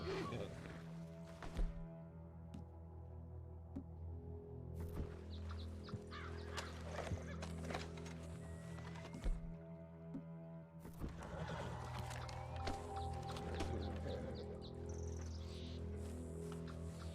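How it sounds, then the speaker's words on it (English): A horse in a Red Dead Redemption 2 game whinnies loudly several times, with hooves clip-clopping and thudding between the neighs. "This is not my horse. This is my horse."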